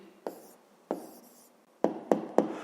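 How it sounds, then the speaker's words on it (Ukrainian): Hand-writing an answer to a fifth-grade maths exercise: five close, scratchy strokes, two longer drawn marks followed by three quick taps and scrapes, with no voice over them. "зараз тоді записуємо відповідь, пишемо відповідь"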